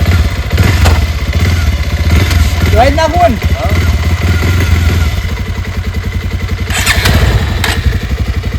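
A motorcycle engine idles and putters steadily close by, a low throbbing rumble, while people talk briefly over it.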